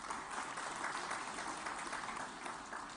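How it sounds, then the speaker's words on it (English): A crowd applauds steadily, dense clapping filling the room at an even level without a break. "may I hear a big round of applause for this"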